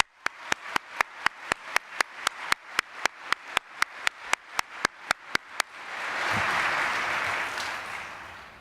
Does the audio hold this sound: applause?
yes